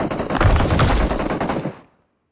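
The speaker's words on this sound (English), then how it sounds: "I hear some shots up here in Gatka" Rapid automatic gunfire in the mobile battle-royale game PUBG Mobile, a loud, close burst of overlapping shots lasting under two seconds, then a sudden cut to silence.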